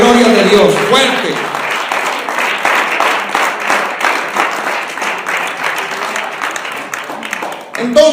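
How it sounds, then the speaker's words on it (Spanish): A church congregation breaks into sustained, loud applause, a dense wash of many hands clapping that slowly thins out, with a voice speaking at the start and again at the end. "Un aplauso fuerte si va a ser para la gloria de Dios."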